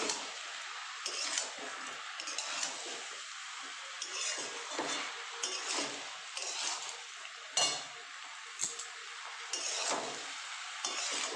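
Spinach greens being stirred in a pan, repeated scraping and clinking of a utensil against the metal over a soft background sizzle, close and fairly loud, with no talking.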